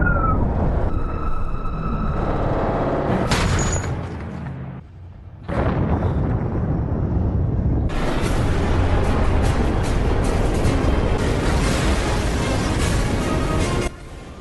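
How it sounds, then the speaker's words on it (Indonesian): An underground facility blows up in the animated film Resident Evil: Degeneration, a loud, sustained roaring rumble that dips briefly midway and then surges back in a long, dense blast of noise. "Curtis hancur bersama ruang bawah tanah Will Parma yang meledak"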